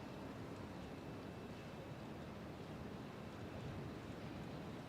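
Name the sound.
wind blowing in a video game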